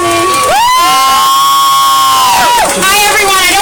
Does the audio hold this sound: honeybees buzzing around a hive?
no